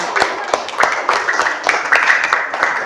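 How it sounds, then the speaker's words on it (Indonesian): A classroom group gives applause to the visual group after their presentation: a few seconds of steady, moderately loud clapping from a small crowd. "Tepuk tangannya"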